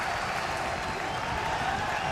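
A crowd at an LSU college baseball game against Rice cheers and applauds in a dense, steady roar throughout.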